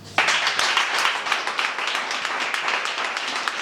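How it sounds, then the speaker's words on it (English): A round of applause from a group, many hands clapping that begins abruptly and holds steady and dense throughout, fairly close, with no one speaking. "give yourself a big round of applause."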